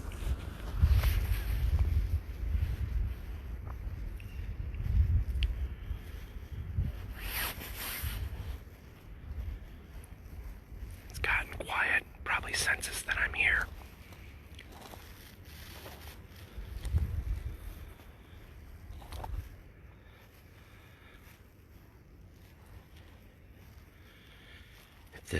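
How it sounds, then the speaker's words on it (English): Gusty wind roars across an outdoor microphone, swelling and fading in broad rumbling waves with some brief higher rushes, no talking. "Hear the wind howling."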